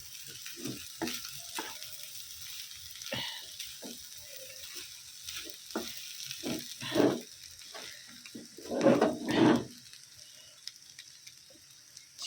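Fried rice with chopped coriander leaves sizzling in a pan, a soft continuous hiss broken by repeated spatula scrapes and stirring bursts, louder near the end, heard without speech.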